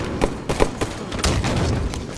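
Sniper rifle shots in a ranked Halo Slayer match, a run of sharp, loud reports spaced about half a second apart over a rumbling game backdrop, with no voices.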